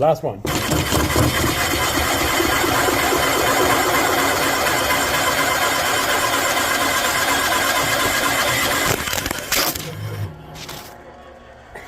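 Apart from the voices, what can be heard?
milling machine milling stud bosses on Ford 351C cylinder head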